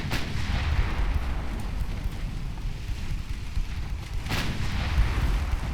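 Naval artillery fire in the Ultimate Admiral Dreadnoughts warship game, with 10-inch and 3-inch guns: a continuous barrage of heavy booming gunfire over a dense low rumble, with two sharper blasts standing out, and no talking.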